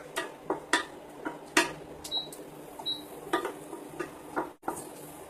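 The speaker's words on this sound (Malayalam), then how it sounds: "ഇനി ഇത് നന്നായിട്ടൊന്ന് ഇളക്കി കൊടുക്കാം." A spoon stirring gobi manchurian sauce made with tomato sauce in a pan, giving a string of sharp metallic clicks and scrapes at an uneven rhythm, close by and fairly quiet, with no one talking.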